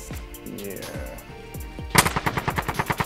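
Video game gunfire in Call of Duty: Warzone: scattered single shots first, then a loud, fast burst of automatic fire with evenly spaced cracks near the end.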